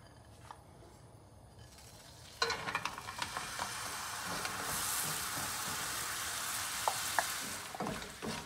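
A rocher mixture for crisp Christmas almond rochers sizzles and fries in a frying pan while it is stirred regularly. A quiet stretch gives way to a steady, close frying hiss with scraping and stirring clinks. Nobody talks.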